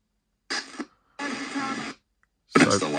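A clean sweep radio ghost box, an ITC device with no static or hiss, scanning through stations at a set pace, giving three clipped bursts of broadcast fragments separated by short silences.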